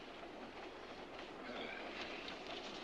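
A train runs along the rails with a constant rumble and rattle of carriages, heard from inside the car, fairly faint and even, with no talk.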